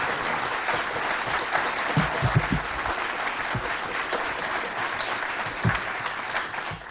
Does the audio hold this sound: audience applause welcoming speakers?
yes